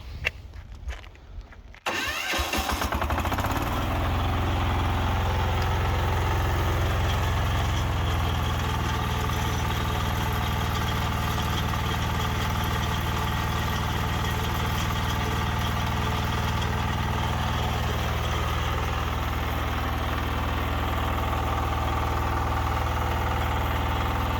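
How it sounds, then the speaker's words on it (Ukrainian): A WM 1100BE6KM DIFF walk-behind tractor engine starts after a few seconds of clattering, then runs at a loud, steady idle with a low rumbling throb close by for the rest of the time. "Зараз ми запустимо мотоблок."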